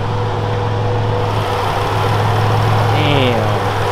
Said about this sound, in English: Definitely does not sound like your normal V6.